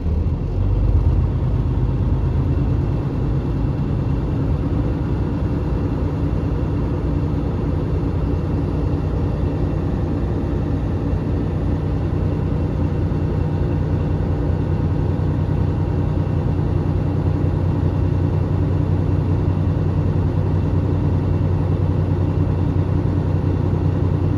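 A truck's diesel engine held at 1,000–1,200 RPM to build air brake pressure during a CDL in-cab inspection: a loud, steady low drone and rumble that runs continuously without change, with no talk over it.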